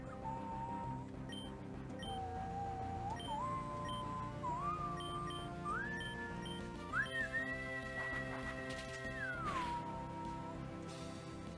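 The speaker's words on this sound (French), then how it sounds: "Dites-moi si les sifflements sont insupportables." Whistling during a livestream, a clear tune of sustained notes that step upward in pitch, hold a long high note, then drop, over a faint steady background bed.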